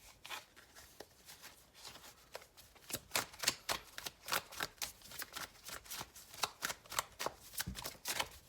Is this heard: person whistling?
no